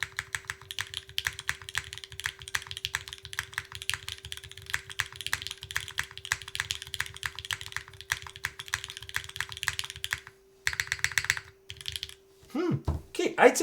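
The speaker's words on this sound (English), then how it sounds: "I'd say this is a pretty nice sounding keyboard" Steady typing on a Zyphyr Z1 60% HHKB-layout mechanical keyboard, a dense run of close, crisp keystrokes with a constant low hum underneath, pausing briefly near the end before a few final presses and some handling noise.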